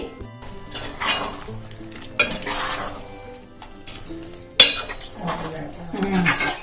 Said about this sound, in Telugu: ఇప్పుడు ఇవన్నీ కూడా బాగా కలిసే వరకు కలిపేసుకోవాలి